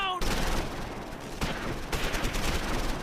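Covering gunfire in the World War II strategy game Close Combat 4, set at the Battle of the Bulge: a dense, continuous rattle of rifle and machine-gun fire at close range, loud and unbroken throughout.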